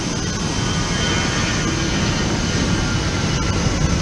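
A steady, loud broadband roar of jet engines fills an airplane cabin, droning evenly without break and with no voices.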